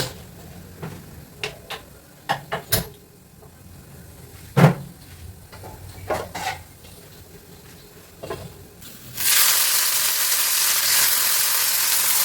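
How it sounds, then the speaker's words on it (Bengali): Small mourola fish hit hot oil in a pan on a gas stove, bursting into a loud, steady hiss and sizzle after a stretch of clinking utensils and kitchen knocks. "এবার এটা ওই গ্যাসে সরাবো, দিয়ে এখানে মৌরলা মাছটা করে নেবো।"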